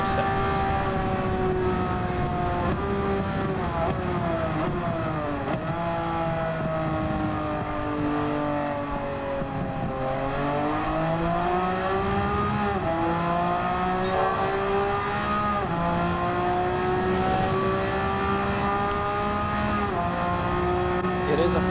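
A Subaru WRX Gr.B road car races in Gran Turismo 7, its engine loud and close, revving up and down through gear changes in wavering sweeps across a long continuous stretch, with a voice talking over it.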